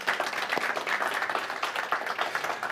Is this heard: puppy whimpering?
no